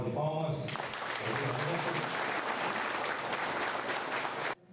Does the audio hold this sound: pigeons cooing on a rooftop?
no